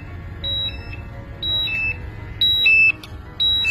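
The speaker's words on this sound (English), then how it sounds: "You can hear the alarm going off." A portable gas monitor sounds its hazardous-atmosphere alarm, giving loud, sharp electronic beeps in repeating bursts of two-tone chirps at roughly one-second intervals over a low background hum.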